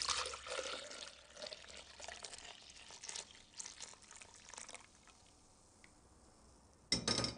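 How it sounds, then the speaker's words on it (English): White wine jelly liquid poured from a pan into a jug, a soft continuous liquid trickle over the first few seconds that thins out and fades, ending with a brief clink. "I'm going to pour this into a jug first"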